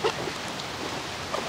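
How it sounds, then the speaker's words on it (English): Steady outdoor rain falls on a sheep and pig farm near a mowed trail and fence line, a constant soft hiss filling the whole stretch with a few slightly louder patters. "And it's really raining now."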